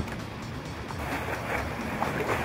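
Fishing boat riding up and down ocean swells, a continuous rushing wash of water and hull noise with wind buffeting, fairly loud and steady with no talk.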